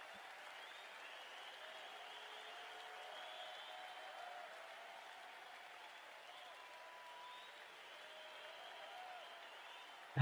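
Crowd at a live One Day International cricket match between West Indies and New Zealand applauding steadily at a distance, a sustained broad wash of clapping and murmur lasting throughout without talk.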